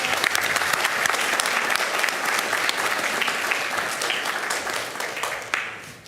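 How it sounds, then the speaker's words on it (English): Audience at a school district board meeting applauds students, steady dense clapping filling the room for several seconds before tapering slightly at the end. "Round of applause for our"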